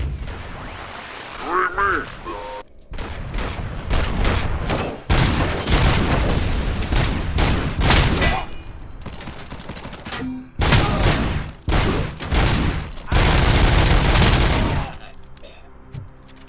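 Heavy machine gun in the video game RoboCop: Rogue City firing in long, loud sustained bursts with short gaps between them, dense rattling gunfire along with booms and grunts.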